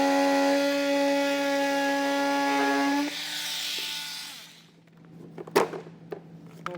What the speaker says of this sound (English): I'm going to drill them out.